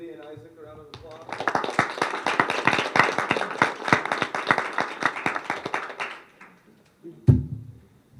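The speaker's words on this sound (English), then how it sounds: "Okay, let's give Lydia and Isaac a round of applause." An audience at a spelling bee claps for two contestants in a dense, steady round of applause that swells quickly, holds for about five seconds, then fades, with brief voices and a thump before and after.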